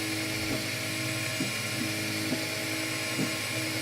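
A 3D printer runs with its cooling fans on, giving a steady whining drone as the print head whizzes around the outside of the print, with soft periodic clicks about once a second.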